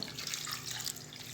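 A steady, close rush of water being poured into a cooking pot of spiced mango for mango pulissery, with a hissing splash and no voices.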